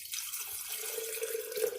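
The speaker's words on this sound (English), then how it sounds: "Now the next step is to add some water to her." Water poured into a vase holding an orchid being moved to water culture, a steady close trickle that fills the container with a rising gurgle over about two seconds, no voices.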